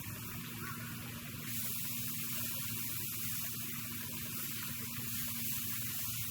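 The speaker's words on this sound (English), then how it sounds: "You hear that sizzle? That's exactly what I want. I want that sizzle." A steady, loud hiss of steaks sizzling on a grill fills the clip without pause, bright and crackly, with no voices.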